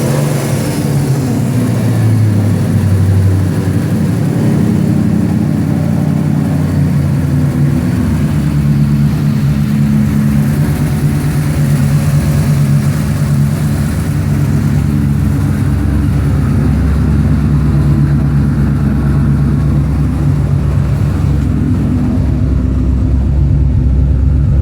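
A heavily built 2003 Ford Mustang Cobra twin-turbo engine runs at a steady, fairly quiet idle with a smooth low drone and a slight lift in pitch early on, close and continuous, with no talking.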